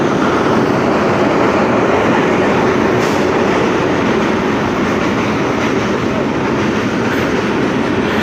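A train rumbling past at close range, a loud, unbroken roar with rattling wheels and steady clatter throughout.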